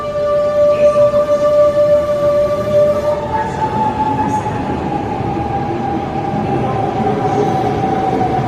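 A Metro del Vallès FGC train at Sabadell Nord station rumbles loudly and steadily at close range, with a sustained whine of traction motors that shifts pitch partway through, and no talk.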